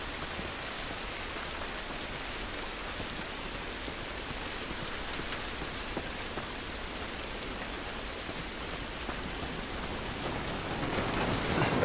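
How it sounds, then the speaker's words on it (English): Steady, dense rain pours down in The Last of Us Remastered video game, a continuous hiss of drops on surfaces that grows slightly louder near the end, with no talk. "It's raining, can't do us any good."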